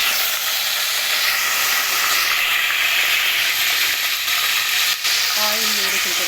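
Curry leaves and mint sizzling in hot oil in a bowl on a gas stove while making mutton curry: a steady, loud, hissing crackle that holds throughout, with a brief clink near the end.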